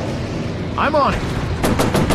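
Enemy fighter plane guns fire in a VR Pacific warplanes combat game, with rapid bursts of gunfire crackling close, a brief whooshing pass before them and further rattling bursts after, over steady engine drone.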